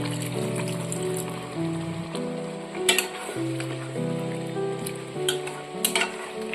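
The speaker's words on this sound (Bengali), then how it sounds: "এবার সামান্য জল দিয়ে দিয়ে মশলাটাকে আমি সমানে কষিয়ে নেব" Spiced masala for a pointed gourd curry with tender coconut sizzles in a pan as a little water is splashed in, a steady frying hiss broken by a few sharper spatula scrapes, close and without talk.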